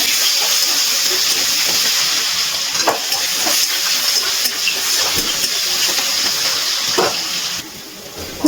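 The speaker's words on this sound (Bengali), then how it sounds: "এবার এই তেলের মধ্যে একটা ছোট সাইজের আলু আমি ছোট করে কেটে নিয়েছি, এটা ভেজে নিচ্ছি।" Small potato pieces fry in mustard oil in a wok, giving a steady dense hiss that runs throughout with a few brief clinks and scrapes, then quiets slightly near the end.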